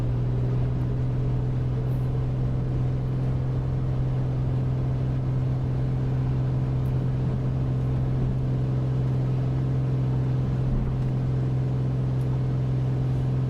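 A Piper Comanche aircraft engine runs at full throttle for takeoff in a flight simulator game, a loud, steady, unbroken drone with a strong low hum and no talking over it.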